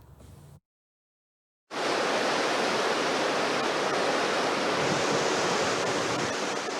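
A waterfall of treated wastewater pouring at a wastewater treatment plant in Bila Tserkva, a steady, loud rushing roar that starts abruptly after a brief silence and continues unbroken.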